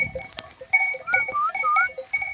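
Sheep and lambs in a highland pasture give several bleats close by, some high and wavering, with a clink in between and quiet outdoor background.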